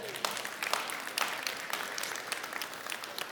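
Audience applause in an indoor gathering: dense, moderate clapping from a crowd, continuous and fairly even throughout, with no talk over it.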